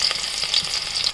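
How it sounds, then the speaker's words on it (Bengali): Chopped onion fries in hot oil with a bright, crackling sizzle and small stirring scrapes, close and steady for a brief moment. "পেঁয়াজটা ভাজা হয়ে গেছে,"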